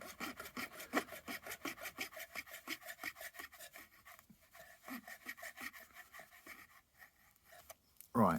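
A razor saw cuts with its coarser side, giving a quick, regular rasping stroke rhythm, close and moderately quiet, slowing and fading near the end before a short louder knock.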